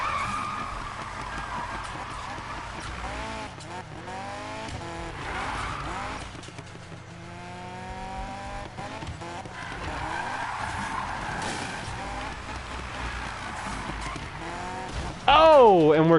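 Tires squeal in long wavering skids as a car drifts through turns in Need for Speed 2015, engine droning underneath, with a louder squeal at the end.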